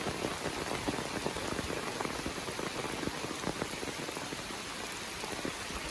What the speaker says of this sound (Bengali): একটানা বৃষ্টি শুরু হয়েছে সকাল থেকে